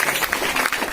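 A church congregation claps together to thank God, a dense burst of close handclaps lasting about a second.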